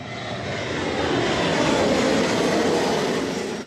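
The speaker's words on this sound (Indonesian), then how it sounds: "Teddy, Daniela, dan anak buahnya menaiki pesawat dan take off" Jet airplane taking off in the movie The Man From Toronto, a loud steady broadband roar that swells briefly, holds, then cuts off abruptly, with no voices.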